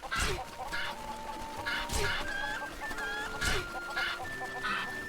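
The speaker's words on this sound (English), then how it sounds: "Death by cuckoos." Cuckoos cluck repeatedly in The Legend of Zelda: Echoes of Wisdom, a dense, steady flock of game chicken calls with bright chirping tones layered over it, loud and close throughout.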